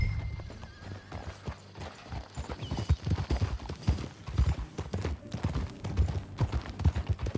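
Horse hooves clip-clop at a steady ride in Red Dead Redemption 2, with rhythmic thuds close by and a whinny partway through.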